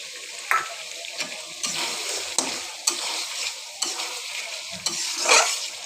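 Taki fish curry stir-frying with ground garam masala, a spatula scraping and knocking against the pan every second or so over a bright, continuous sizzle, close and clear with no voices.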